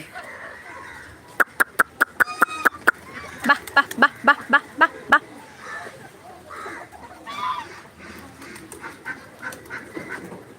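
Ducks quack in a quick run of sharp, honking calls on a farm where pigeons have also gathered, followed by softer, scattered calls and faint voices in the background.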